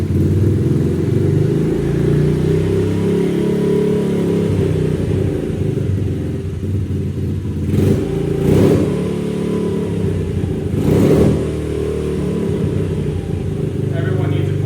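A Honda CRF 50 dirt bike engine idles steadily with a low, continuous rumble, then revs in two short bursts near the end, loud and close.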